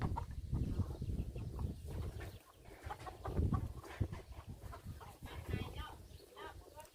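Chickens cluck in short, repeated bursts nearby, with rustling and a voice speaking in the background.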